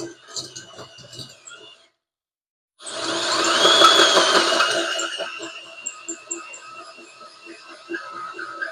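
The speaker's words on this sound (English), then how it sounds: "Poor little drill. Let's grab a bigger one." A small power drill whines in a loud sustained burst that rises, peaks and slowly tapers, following a brief shorter run and a moment of silence, close and alone with no talk.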